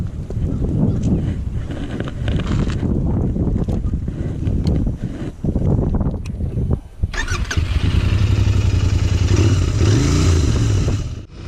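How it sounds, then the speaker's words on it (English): A Royal Enfield Interceptor 650 motorcycle is ridden on the road, its engine droning steadily and loud under heavy wind buffeting, with a rising rev near the end. "This is my Interceptor 650. Let's hop on and see where the road takes us."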